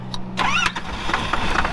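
A 12 valve Cummins diesel in a Ford truck cranks over, its starter whine and rough engine churn loud and close, with a rising squeal near the start.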